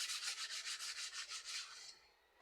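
Rhythmic back-and-forth scraping of sandpaper, about a dozen quick strokes in a steady rhythm, close and fairly quiet, then stopping.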